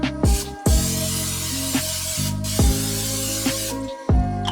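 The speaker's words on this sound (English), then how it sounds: "Coat that in canola oil to help it from sticking." Canola oil sprays from a can onto a large stovetop pan set to medium-high heat, several short close hissing bursts separated by brief pauses, with no talking.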